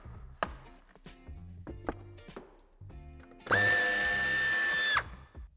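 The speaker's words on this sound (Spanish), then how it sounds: "Una vez hemos aflojado el tornillo de la parte superior" A power drill loosens the bumper screw on a 2022 BMW 2 Series (G42): a few handling clicks and knocks, then one loud, steady whirring burst lasting about a second and a half that stops abruptly.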